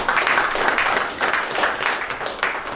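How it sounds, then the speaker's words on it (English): An audience at a stand-up comedy show claps for a volunteer, a moderately loud burst of applause with a few individual claps standing out as it swells and ebbs. "could you guys give a round of applause to Jimmy?"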